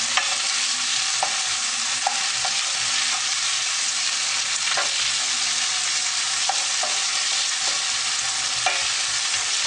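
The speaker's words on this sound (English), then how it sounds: "So this one we're going to want to keep mixing on a regular basis because we don't want any of this to burn." Chopped potato is stirred in a rice cooker pot that is not non-stick, giving a continuous sizzling hiss broken by occasional scraping knocks of the utensil against the pot.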